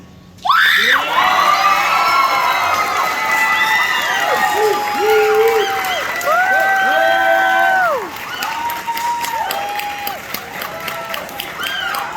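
A live concert audience at a show in Arizona claps and cheers loudly, with high-pitched screams and whoops rising over sustained applause before it thins out toward the end.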